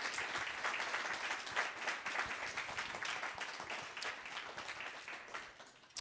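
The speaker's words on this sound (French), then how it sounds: "on vous applaudit encore" An audience at an evening artificial-intelligence conference applauds after a talk, a steady, fairly soft wash of clapping that tapers off toward the end.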